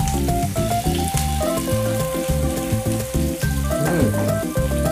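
Shallots hitting hot oil while stir-frying for bitter melon with shrimp in oyster sauce, a steady sizzle running throughout beneath background music.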